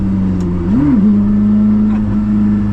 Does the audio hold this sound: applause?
no